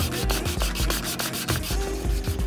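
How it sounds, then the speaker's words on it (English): A foam part is sanded by hand with 320 grit sandpaper, heard as quick, close rhythmic scratchy rubbing strokes repeating steadily, with no talking. "And this is 320 grit sandpaper."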